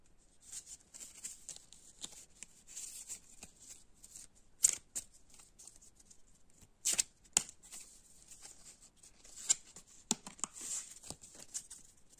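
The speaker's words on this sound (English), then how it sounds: "I shuffled the cards." A deck of cards for the Sovereign of Discord board game is shuffled in repeated soft riffles and flicks, quiet and close, with a few sharper snaps along the way.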